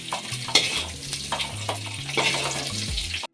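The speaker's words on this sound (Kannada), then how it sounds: "ಈ ರೀತಿ ಒಂದೆರಡು ನಿಮಿಷ ಫ್ರೈ ಮಾಡಿಕೊಂಡ್ರೆ ಸಾಕು." Okra frying in oil in a pan, a continuous sizzle broken by repeated scraping stirs of a spatula, close and fairly loud, with a low hum underneath.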